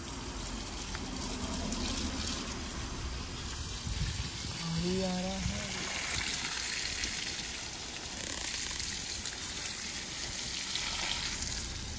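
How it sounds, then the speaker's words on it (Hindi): A water pump set runs in hot sun, giving a steady rushing, gushing water noise throughout, with a brief faint voice partway through. "पंपू सेट चालू कर दिए हैं क्योंकि काफ़ी ज़्यादा धूप हो रहा है ना"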